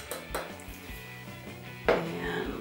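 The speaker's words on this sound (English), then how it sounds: "we're going to go ahead and put our dry ingredients in and just dump our Splenda in, our cornstarch" Splenda and cornstarch dumped into a mixing bowl for a protein glaze, a few light clinks and soft thuds of powder and utensils against the dish, with one louder knock near the end.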